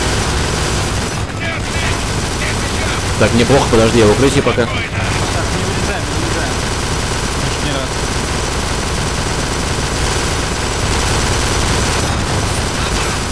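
Gunfire in the co-op shooter Kane & Lynch 2: Dog Days comes in bursts with pauses between them, mixed with a steady engine drone, while players talk over much of it.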